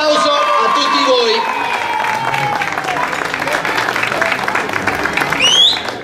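Audience applause at an outdoor awards ceremony for a cycling trophy in Sambatello, Italy: steady, dense clapping from a crowd, continuous throughout with a rise near the end, mixed with some background voices.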